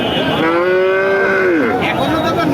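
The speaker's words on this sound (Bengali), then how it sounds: "সামনে একটা বেশ বড় সড়ো গরু" A single long, loud cow moo with a rising then falling pitch, close by, over a steady background din of a crowd at a cattle market.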